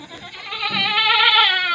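A goat in a difficult labour bleats once, a loud wavering cry close to the listener.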